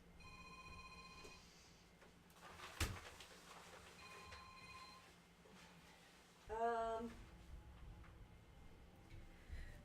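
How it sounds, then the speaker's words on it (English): A mobile phone ringtone trills faintly in a quiet room, a short melodic ringing burst mid-clip after earlier soft tones and a thud. "I had to go shut up my husband's phone"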